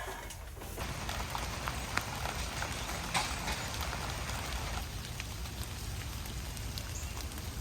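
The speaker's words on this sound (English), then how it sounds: "we're stuck here in the rain with a leaky windshield" Steady rain falls on an RV with a leaky windshield during a rainstorm, a dense continuous patter with occasional sharper drips, fairly faint and even throughout, no voices.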